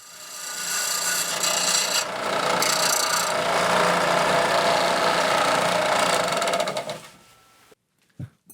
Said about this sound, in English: Then we need to clean up the end of the rods like you see here so they thread smoothly.